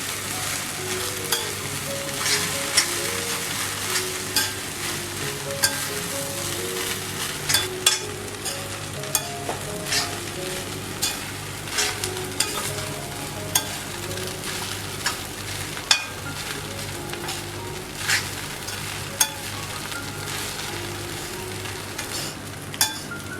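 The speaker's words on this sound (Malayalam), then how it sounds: "അതിലേക്ക് നമ്മൾ ഈ കഴുകി വെച്ചിരിക്കുന്ന അവലും ആണ് ചേർക്കണം ചേർത്ത് നല്ലപോലെ മിക്സ് ചെയ്യാം" Washed flattened rice (poha) being stirred into a hot pan for aval upma, with steady scraping and stirring strokes over a soft continuous sizzle, close and moderately loud, no voices.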